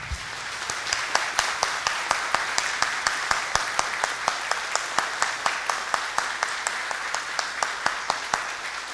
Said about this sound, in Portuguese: nós vamos dar uma salva de palmas para o nosso Senhor Jesus Cristo